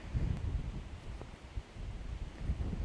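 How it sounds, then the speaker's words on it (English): Steady low wind rumble buffeting a microphone outdoors, with faint rustling throughout. "Now it is a bit windy"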